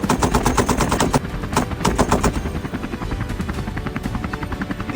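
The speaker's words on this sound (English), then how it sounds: "We lower altitude. Hold the aircraft stable for John's optimal shot angle." A helicopter flies low during an aerial wild boar hunt, its steady rotor chop continuous while bursts of rapid gunfire crack out nearby, with a dense volley early on and further shots scattered through the rest.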